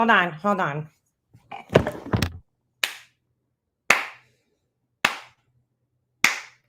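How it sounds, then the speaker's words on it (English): A single person gives slow golf claps, four sharp, evenly spaced hand claps about a second apart, close and crisp, following a stretch of talking. "Golf claps for you, Mandy"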